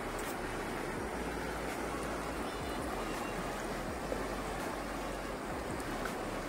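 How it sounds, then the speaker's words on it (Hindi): River water flowing at Rishikesh, a steady broadband rush with no breaks, loud and close throughout, with no talk heard. "आप यहाँ पे पानी की आवाज़ सुन सकते हैं।"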